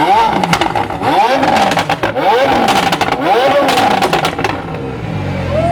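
A heavily modified McLaren 720S running rolling anti-lag on city streets: loud revving with repeated rising and falling engine sweeps, rough pops and crackles throughout, heard close up with some voices mixed in.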